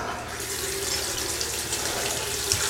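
Cold water runs from a kitchen tap into a pan for cooking rice, a steady close rushing stream with no voices over it.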